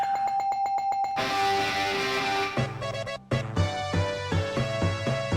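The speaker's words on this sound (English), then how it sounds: "Can I give this another bell? I have to give that a double bell." Ringing bell sound effects played back to back: bright repeated chimes, then a denser run of rhythmic bell strikes, loud and close, with no talking.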